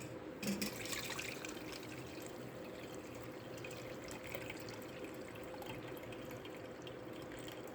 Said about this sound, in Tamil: 4 பேர்த்துக்கு உண்டான தண்ணி ஊற்றுறோம்.